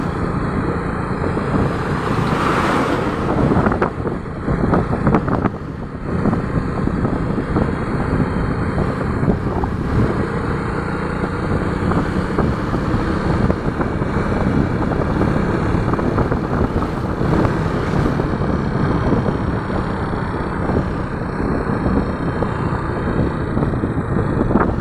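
Motorcycle ride on a mountain road, with steady engine drone and heavy wind rush buffeting the microphone throughout, loud and continuous with no talking.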